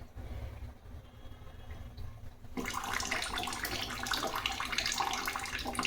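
Water runs from a faulty Livpure home purifier, a low hum first, then a steady, close hiss of flowing water that starts abruptly and keeps going, with no talk.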